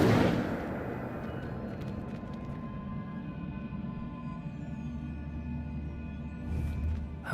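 A fire spell cast in Hogwarts Legacy, Incendio, erupts in a loud whooshing burst that settles into a sustained low rumbling roar, swelling briefly again just before the end.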